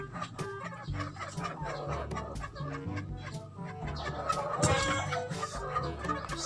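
A flock of chickens clucking busily at feeding time, overlapping close clucks and short squawks with pecking and scuffling noises throughout.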